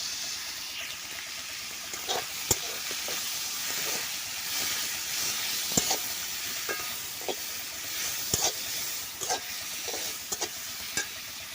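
Garlic and tomato sautéing in a pan for Tamil egg curry: a steady soft sizzle and hiss, broken by sharp scraping clicks of a spoon stirring at irregular intervals, close and fairly quiet with no talking.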